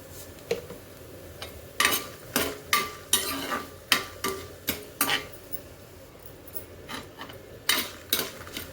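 Dried red chillies, coriander seeds and cumin are dry-roasted in a pan for gongura pachadi, with a quiet, rhythmic series of scraping stirs and rattling seeds over a faint sizzle.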